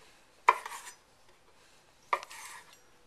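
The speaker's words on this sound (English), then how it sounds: "I'm going to chop them up in half" A knife slices through Kalamata olives on a board, giving two separate soft cuts, each a sharp tap followed by a brief scraping drag, close and quiet with silence between them.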